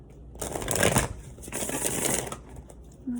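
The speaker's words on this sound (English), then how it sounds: "Let's give one more good shuffle." A deck of oracle cards is shuffled close by in two quick riffling bursts with a short pause between them, crisp and papery, with no talk.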